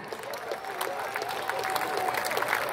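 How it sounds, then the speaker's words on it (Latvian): Outdoor crowd applause greeting a group marching in a town festival parade in Preiļi, a steady wash of clapping and cheering that holds throughout, with voices mixed in and a faint whistle-like tone. "Sagaidām ar aplausiem!"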